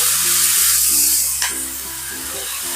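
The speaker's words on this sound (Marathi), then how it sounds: "थोडासा पाण्याचा भपका मारते" Freshly splashed water sizzles on sabudana khichdi frying in a pan, a steady close hiss with a faint scrape, with no talking.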